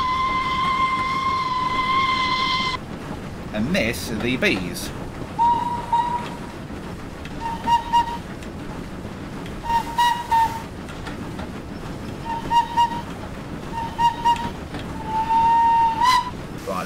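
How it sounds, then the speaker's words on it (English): A small peanut steam whistle on a Caledonian Railway Pug locomotive in Train Simulator gives one long blast, then a series of short toots over the steady rumble of the engine, while a person briefly speaks. "She's no longer got the hooter, she's got the little peanut."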